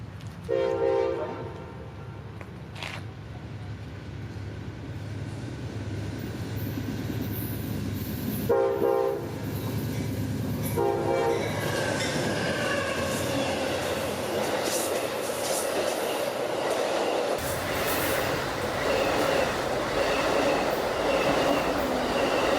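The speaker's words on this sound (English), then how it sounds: "We're set up, in the shade thankfully, for Amtrak PO 91." Amtrak passenger train 91 leaves its Lakeland stop and picks up speed toward Tampa in central Florida. Short horn blasts sound first, then a loud, close, continuous roar of rolling wheels and cars that builds and holds.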